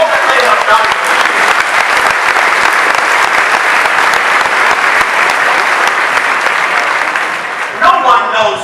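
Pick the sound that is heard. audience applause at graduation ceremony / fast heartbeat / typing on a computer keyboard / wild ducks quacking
audience applause at graduation ceremony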